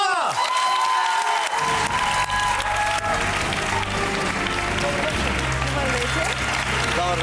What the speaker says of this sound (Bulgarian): Аплодисменти за Велислава!